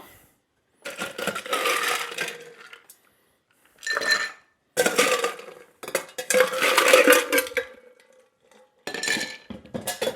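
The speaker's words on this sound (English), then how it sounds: "I'm putting quite a bit of ice in here. I'm using ice cubes" Ice cubes tumble and clatter into a cocktail mixing glass in several separate bursts of clinking, close and bright, with short pauses between scoops and no one talking.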